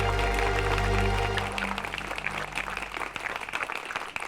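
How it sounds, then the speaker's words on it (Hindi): Loud applause from a school audience of children welcoming a guest on stage, dense clapping that fades from a full roar into scattered, thinning claps. "माननीय अतिथि जी का स्वागत तालियां बजाकर कीजिए"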